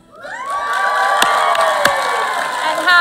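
At the McGeorge Unity graduation ceremony in 2022, a crowd swells into loud, sustained cheering and whooping within half a second, with a few sharp claps standing out and the roar holding steady to the end.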